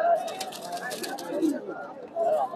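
Pigeons coo at a busy outdoor pigeon market, soft calls rising here and there beneath people talking close by.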